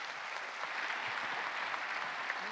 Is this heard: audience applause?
yes